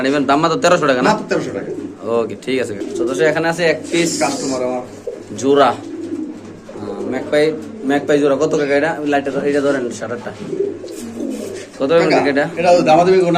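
Large king pigeons coo in low, soft, repeated murmurs close by at a pigeon market. Steady conversation between men runs over the birds throughout.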